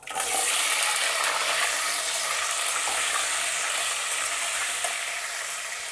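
Chopped onions dropped into hot oil with mustard and fenugreek seeds, a loud, dense, continuous sizzle up close that holds steady and eases slightly near the end, no voices.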